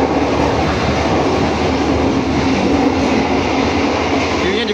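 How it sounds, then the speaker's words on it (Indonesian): Inside the dining car of the Jayakarta passenger train, a constant loud rumble and rattle of the carriage in motion fills the space, with a faint hum underneath. "Perjalanan kereta api Jayakarta tiba di stasiun Ngawi"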